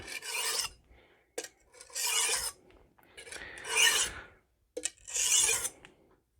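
A Magnacut steel chef's knife is drawn across coarse and fine Norton Crystolon stones in four long, rhythmic rasping strokes, each followed by a short pause and a brief scrape.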